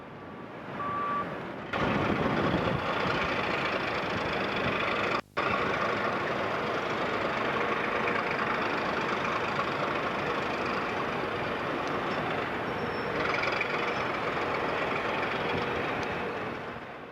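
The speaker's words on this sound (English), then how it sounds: "a departing 6-speed fully fitted air brake freight train loaded with steel bars on 6 BDA bogie wagons approaches the sidings" A departing air-braked freight train, six BDA bogie wagons loaded with steel bars, rolls toward sidings in the Scunthorpe area with a steady, loud rumble and one sharp clank partway through.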